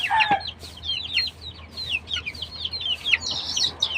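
Hungry young chicks chirp and cluck before feeding, a busy flurry of high peeps and clucks close by with a rooster-like call early on, over a low outdoor hum.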